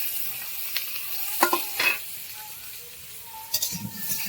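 Whole garlic cloves and whole onions fry with black cumin seeds in a pan for taro leaf greens, a soft sizzle broken by a few sharp stirring scrapes and clinks against the pan.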